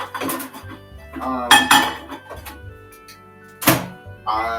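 An aluminum pan knocks and clatters on a stovetop while butter melts for a cheesy mac and cheese sauce, with a few loud metallic thunks and clinks spaced apart over low background hum.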